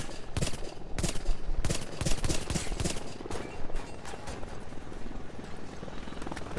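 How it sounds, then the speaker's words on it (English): Gunfire in The Division shooter game comes as dense bursts of sharp automatic shots, loud and rapid with short pauses, over a steady rumble that could be a helicopter nearby. "What are you shooting at?"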